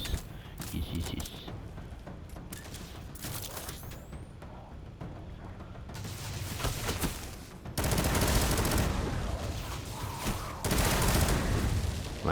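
A shotgun repeatedly firing in the video game Destiny 2 gives bursts of loud blasts that run close together, with heavier stretches toward the end and speech over parts of it.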